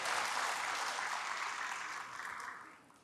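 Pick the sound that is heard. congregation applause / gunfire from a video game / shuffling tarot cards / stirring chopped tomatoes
congregation applause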